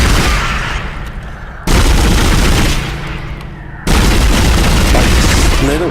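Assault rifle fire in the Dead Space video game: loud, dense bursts of gunshots with deep booming impacts, running in sustained volleys broken into three segments with brief drops between them.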